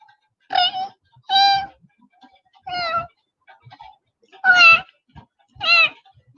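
A voice imitating a dog's whimpering: a series of short, high, nasal whines with pauses between them, close and fairly quiet.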